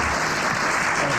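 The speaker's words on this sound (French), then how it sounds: "madame le prieur d'Agon-Coutainville a bien mérité vos applaudissements" A French radio-show studio audience applauds in a brief, dense burst, steady and fairly close, with no voices over it.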